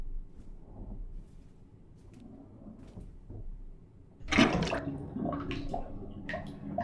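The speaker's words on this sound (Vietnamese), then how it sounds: "Tôi vừa mới xả nước này." Bathtub water draining in the horror video game Jisatsu, a quiet rumble that swells at about four seconds into a louder gurgling wash with clinks and splashes, heard alone without talk.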